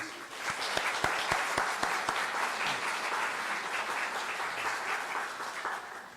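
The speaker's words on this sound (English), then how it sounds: "Let's give these candidates a round of applause." Audience applause for candidates at a town candidate forum, a room of people clapping with distinct individual claps early on, then settling into steady applause that continues for several seconds.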